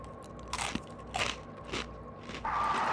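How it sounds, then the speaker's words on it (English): Close, crisp crunching bites and chewing of pretzels in a few distinct bursts, each crackly crunch separated by brief pauses, with steady chewing at the end. "Let me eat this handful of pretzels."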